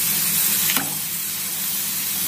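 Herbal hair oil with fenugreek seeds sizzles and crackles steadily in a pan on the stove, a close, continuous hiss with a brief pop near the start.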